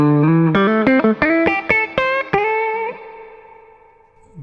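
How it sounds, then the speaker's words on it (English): An electric guitar played through a spring reverb pedal on a pedalboard gives a run of quick plucked notes, then a held chord that rings out and decays into a splashy reverb tail. "It's probably not the most authentic spring reverb in the world."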